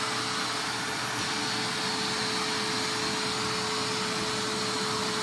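A SEBO central vacuum system runs with a steady, loud whooshing roar and a constant motor hum, unchanging throughout, with no talking.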